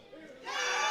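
A crowd at a Premier League grand final cheers for Wymo, starting as a modest murmur and swelling into a louder roar of voices halfway through.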